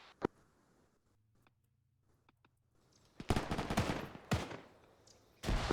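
Video game gunfire, a magazine dump at mercenaries: after a quiet stretch with faint ticks, loud close bursts of rapid shots and impacts come in clusters toward the end.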